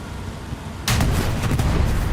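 Turret gunfire in a team video game match, a sudden loud burst that breaks in after a quieter stretch and keeps rattling with sharp repeated cracks over a rumbling bed.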